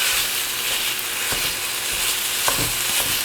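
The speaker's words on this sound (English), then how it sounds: "And we just want to turn the heat up on this now and really break this lamb apart." Ground lamb sizzles loudly in a hot pan while a utensil scrapes and breaks it apart, steady frying hiss with a few sharp scraping strokes and no talking.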